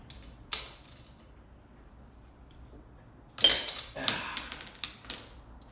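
A breaker bar works on the camshaft sprocket bolt of a Yamaha Virago 1100 during engine teardown, a sharp metallic clank followed by a burst of ratcheting, clinking metal sounds, close in a quiet workshop.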